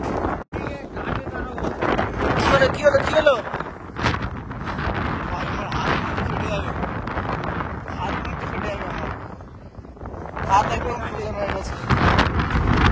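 Strong cold wind in Sikkim buffets the microphone in a constant rumbling roar, with excited voices talking over it throughout.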